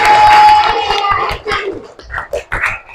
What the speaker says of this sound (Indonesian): Tepuk tangan untuk Kaisa.